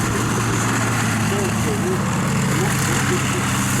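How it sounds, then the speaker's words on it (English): An M3 Stuart tank's seven-cylinder Continental radial engine, mounted in the rear, runs at a steady idle, a continuous droning rumble held at constant loudness throughout, heard outdoors at a tank show demonstration. "Stuart, powered by a 7-cylinder Continental Raven engine in the back"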